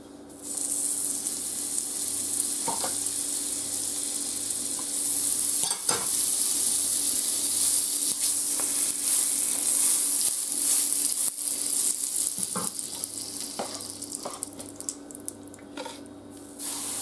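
Topfenpalatschinken, thin pancakes filled with quark, frying in a pan that is not yet very hot, giving a steady, fairly loud sizzle with occasional scraping and stirring clicks and no voices.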